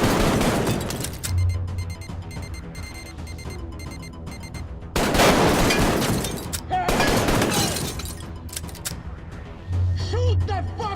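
Gunfire bursts in the VR shooter Arktika.1 on Oculus Rift, loud and repeated in clusters, with a player talking over the shots.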